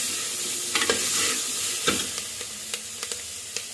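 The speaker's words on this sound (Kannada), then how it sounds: "ಟೊಮೆಟೊವನ್ನು ಮಿಕ್ಸ್ ಮಾಡಿಕೊಂಡು ಫ್ರೈ ಮಾಡ್ಕೊಳ್ಳಿ" Tomatoes sizzle in a hot pan for a mutton curry, a steady soft frying hiss broken by several sharp clinks and scrapes as a spoon stirs them.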